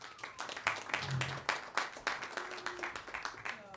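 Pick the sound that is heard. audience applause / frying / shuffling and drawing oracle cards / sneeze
audience applause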